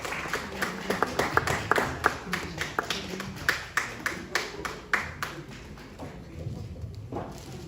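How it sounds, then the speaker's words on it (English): Steady hand clapping from a small group, rhythmic and fairly close, gradually thinning out toward the end with some faint voices underneath. "Please keep giving them a round of applause."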